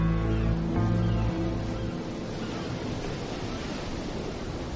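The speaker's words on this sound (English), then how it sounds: "The waves rolled by as they had always done." Ocean waves roll in a steady, broad wash of surf noise that swells and holds without pause, with no talking over it.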